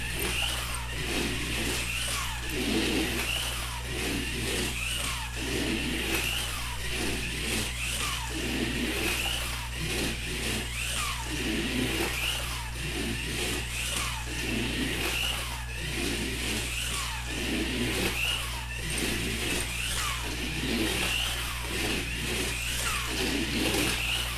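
RC midget race car with a ball bearing motor running around a track, a continuous whirring motor drone with repeated rising surges, heard without talk.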